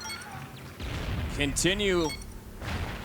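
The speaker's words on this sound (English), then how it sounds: "shots being fired, picks up a kill, takes out Karma" Gunfire rings out in a competitive shooter video game during an esports match: loud, dense bursts of shots with a whistling, voice-like tone mixed in, then trailing off.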